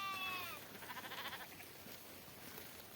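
A sheep in a grazing flock gives a faint wavering bleat at the start, followed by quiet outdoor rustle and low background noise.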